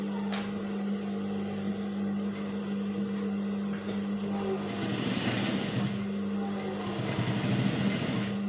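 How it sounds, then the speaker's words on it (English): A sewing machine stitches a senator placket on a shirt collar, its steady whirring motor hum running throughout and growing louder and busier in the second half, with no one talking. "you sew again the part which you left up from your collar"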